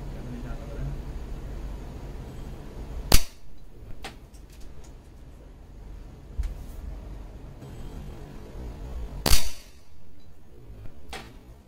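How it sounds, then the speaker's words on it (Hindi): An air pistol fires two sharp shots at a target, spaced several seconds apart, each a crisp, loud crack over a low background hum, with a few faint clicks between them. "तो चलिए एक शॉट और ले लेते हैं, इसमें लगा के देखते हैं क्या निशान लग रहा है।"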